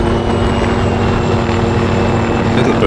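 Little Bird helicopters in the military video game Arma 3 produce a loud, steady rotor and engine drone that holds throughout with little variation, a continuous close-sounding whir without speech.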